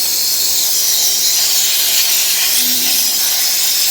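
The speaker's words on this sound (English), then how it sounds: "now all the components we will blow with compressed air to remove all the dust" Compressed air blasts dust off magnet valve components during an NC4 valve overhaul, a loud, continuous, close hiss held steadily throughout with no pause.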